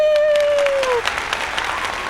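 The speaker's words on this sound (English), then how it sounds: "You guys should, like, add applause." Short burst of added applause sound effect during a casual conversation, a steady patter of clapping that briefly follows a voice and then continues alone and evenly.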